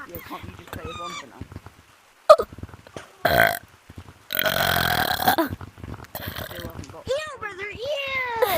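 Loud, gurgling human burps erupt in short bursts amid lively chatter and laughter from several nearby voices, with one drawn-out belch near the end.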